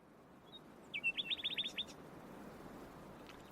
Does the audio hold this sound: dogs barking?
no